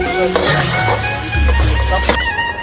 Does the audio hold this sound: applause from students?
no